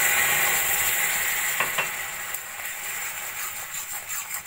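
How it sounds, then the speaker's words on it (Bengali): Water splashed into hot melted sugar in a pan while making caramel for a caramel cake, bursting into a loud, steady hissing sizzle that crackles and sputters throughout, close up, with no talking. "এখানে দিয়ে দেবো আমি অল্প করে জল।"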